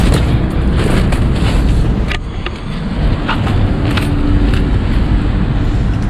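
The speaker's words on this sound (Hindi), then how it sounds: "देखें गाड़ी पास से गुजरी बड़ी तेज़ आवाज़ है" A car passes loudly on a hot street in Muscat, Oman, as a dense, steady roar of engine and tyre noise that briefly dips before swelling again, close by.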